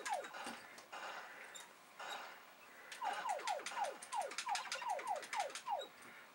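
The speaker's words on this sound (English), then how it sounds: "That noise is me shooting" Repeated descending zap shots from the Commodore 64 Superman video game fire in a quick irregular string, each a short falling chirp, following earlier softer noisy game sounds.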